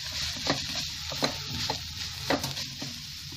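Coconut ladoo mixture cooking with water in a pan, stirred gently, with a steady low sizzle and a few distinct scraping strokes about every half second, close and moderately loud.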